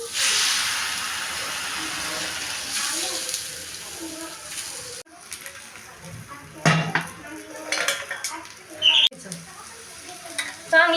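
Oil sizzles and crackles steadily as dhapate flatbread fries on a hot griddle, with occasional scraping and clinks of a spatula.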